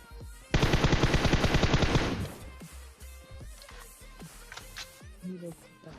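Rapid automatic gunfire in a shooting video game, a loud sustained burst of about a second and a half, followed by scattered quieter shots and game sounds.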